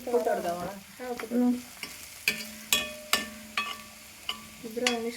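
Sliced onions browning in a pan for a Kerala onion curry, stirred with a series of scraping, clattering strokes over a light sizzle. The strokes are spaced irregularly, close and fairly loud, with faint tonal sounds in the background.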